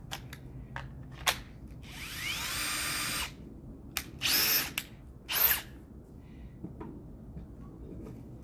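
Power drill under test spinning up in several short bursts and one longer whine, each start sharp and fairly close, separated by quiet gaps, with faint background noise and no talking.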